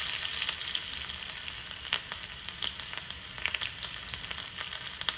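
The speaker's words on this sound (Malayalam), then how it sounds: "നമ്മുടെ എണ്ണ ചൂടായി വന്നിട്ടുണ്ട് അതിലേക്ക് ഒരല്പം കടുക് ഇട്ട് കൊടുക്കുക കടുക് നന്നായിട്ട് പൊട്ടിക്കഴിഞ്ഞാൽ ഉടനെ ഒരു രണ്ട് കഷ്ണം ചുവന്നുള്ളി എരിഞ്ഞത് ചേർത്ത് കൊടുക്കുക" Mustard seeds and shallots frying in hot oil for a Kerala-style curry tempering, a steady close sizzle with scattered sharp popping crackles throughout.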